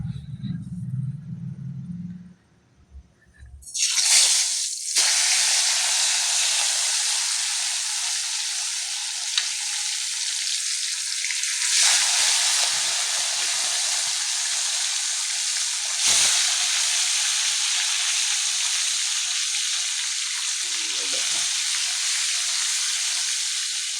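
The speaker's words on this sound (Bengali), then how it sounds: "এটা কাতলা মাছ। এবার আমাদের ফ্রাই হবে বন্ধুরা।" Catla fish frying in hot oil, a loud, dense, steady sizzle that bursts in after a brief rustle and continues close and unbroken.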